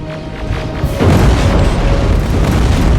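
Rockets slam in and explode in the combat game Terminator: Resistance, a loud booming blast that erupts after a second and rolls on as sustained heavy rumble.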